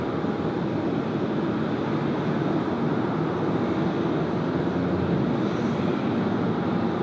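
A passenger jet taxiing on taxiway Alpha at Sydney Airport, rounding the dogleg, gives off a steady, continuous broadband engine roar that holds at an even level for the whole stretch, with no voices.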